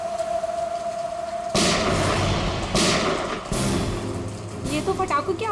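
Rain hisses steadily in a TV crime drama, then a series of sharp, loud gunshot cracks cut through it, spaced about a second apart, with a voice briefly heard beneath.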